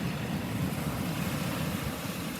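Ocean waves washing steadily in a continuous broad roar, with some wind rumble against the microphone, and no voices.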